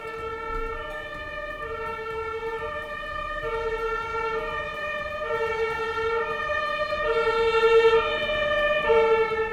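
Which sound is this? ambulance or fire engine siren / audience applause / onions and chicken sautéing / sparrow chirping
ambulance or fire engine siren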